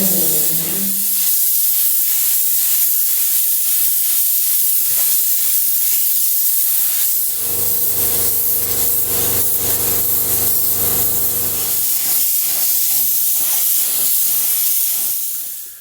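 Spray gun laying silver paint onto the chassis of a 70-year-old London double-decker bus, a loud continuous hiss running throughout with a low steady compressor drone in the middle stretch, no talking.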